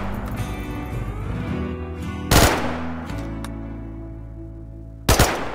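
Two sharp, loud gunshot bursts from an enemy in a base-building video game, the first about two seconds in and the second near the end, over a steady droning game background.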